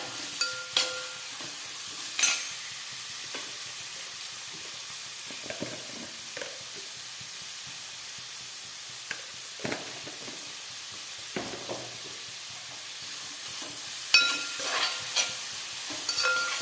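Onions sautéing in coconut oil with salt for a chicken curry, a soft constant sizzle punctuated by scattered scraping stirs and light pan knocks, no voices.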